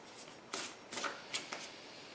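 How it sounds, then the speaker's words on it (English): Tarot cards are shuffled by hand in a few quick, soft riffling bursts, close and fairly quiet, with no voice over them. "So we're going to go ahead and start shuffling away here"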